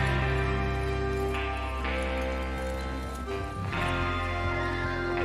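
Horses galloping with a continuous rumble of hooves under layered background music, loud and sustained, no talking.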